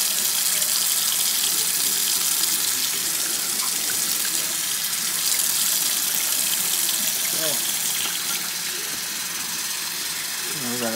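Water runs steadily from a tap while cloth dyed with English walnut leaves is rinsed, a continuous loud gush with occasional handling clatter; close, no clear talk.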